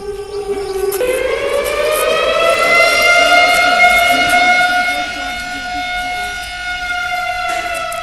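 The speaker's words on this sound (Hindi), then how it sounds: "एक बार सुनिए अलार्म की आवाज।" Dam flood warning siren wails loudly and steadily, rising in pitch after a brief lower tone and then holding a sustained droning note for several seconds, with faint background noise underneath.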